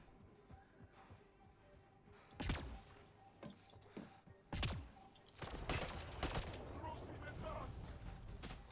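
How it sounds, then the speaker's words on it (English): Enemy gunfire in the video game Mass Effect Andromeda, with several loud sharp shots and bursts over a rumbling combat background, the firing growing denser and more continuous toward the end. "And they're firing at me."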